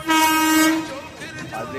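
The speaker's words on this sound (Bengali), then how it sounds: "কিন্তু ট্রেন যাচ্ছে ঠিক আছে" A train blows its horn at a railway level crossing on the Sheoraphuli–Tarakeswar route during the Shravan pilgrimage: one loud, sustained, close horn blast, then a rumbling rail noise as the horn fades.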